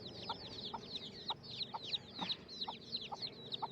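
Near a sheep pen, a small hen that has hatched chicks clucks softly and repeatedly while high peeping chick calls chirp rhythmically over her, close by with no talk.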